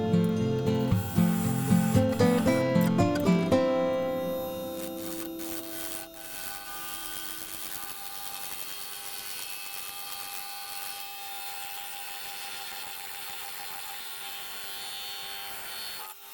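A bowl gouge cuts a walnut serving tray spinning on a lathe, opening with a rhythmic series of scraping bites that settle into a steady, ringing hum as the wood keeps turning.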